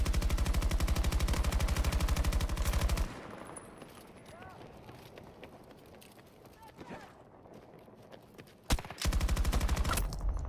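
Rapid automatic gunfire in a first-person shooter game, loud and close, with a sustained burst lasting a few seconds, a quieter stretch of scattered sounds and a voice, then another sharp shot and a second sustained burst.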